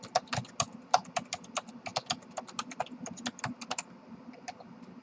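Rapid, fairly quiet keystrokes on a computer keyboard as a password is typed, an irregular run of clicks that thins out toward the end.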